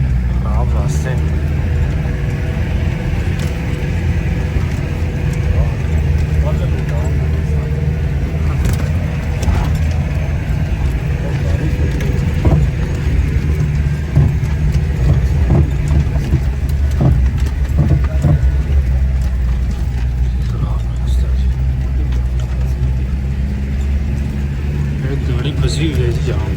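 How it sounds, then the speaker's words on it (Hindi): A jeep engine labors steadily as it struggles to pull free of deep mud on a rough snowy mountain road, a continuous low rumble with broadband noise throughout, with people talking over it. "गाड़ी फंसी हुई है जी यहाँ पे, बड़ी मुश्किल से निकल रही है यहाँ से।"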